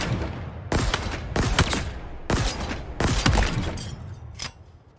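The Mangler heavy pistol firing in Halo Infinite, a series of loud, sharp booming shots spaced about a second apart, each with a ringing tail, over faint game ambience.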